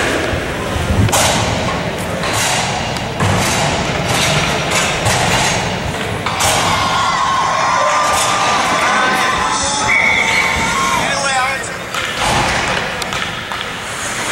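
Loud, continuous cheering and shouting from a crowd at an amateur hockey game, with sharp thuds and cracks from the rink and voices talking close by.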